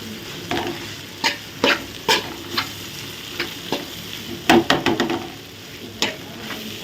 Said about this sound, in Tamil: இந்த அவலை வந்து இதில் போட்டுக்கலாம் போட்டு நல்லா கிளறுவோம்